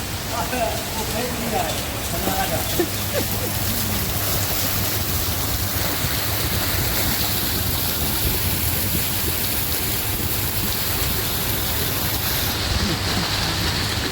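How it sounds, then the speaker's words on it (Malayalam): Heavy rain pours steadily over Al Karama, Dubai, on a dark April afternoon, a dense continuous hiss with water running off a building roof, while a voice talks faintly under it. "മഴ എന്ന് പറഞ്ഞ പോലെ പെരും മഴ"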